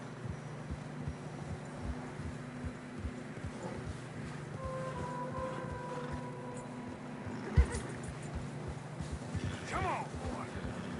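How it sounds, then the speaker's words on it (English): Horses in a video game struggle through fresh snow, with steady hoof clatter and a clear whinny over a low ambient bed, while a voice speaks faintly at times. "Horses are struggling. Yeah, a lot of fresh snow here."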